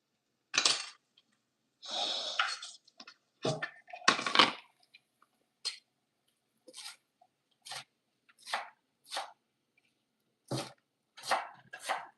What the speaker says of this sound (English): if I chop this, we can measure it